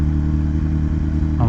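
A Kawasaki ZX10 sport motorcycle idles at a busy car meet, its close, steady engine rumble running unbroken and fairly loud throughout.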